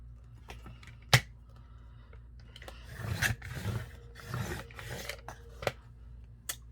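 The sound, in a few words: trimming the top of a trading card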